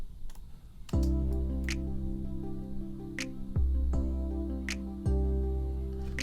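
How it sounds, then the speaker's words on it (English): Slow instrumental beat with an 808 bass whose release is cut very short: deep sustained bass notes that drop out abruptly, over light ticking hi-hats and sparse percussion, moderately loud and without voices. "I just shortened the 808 bass length drastically"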